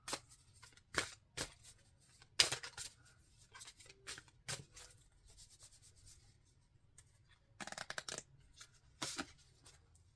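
Angel oracle cards being shuffled by hand, soft quiet riffles and slides coming in scattered short bursts with brief pauses, close and alone with no talking.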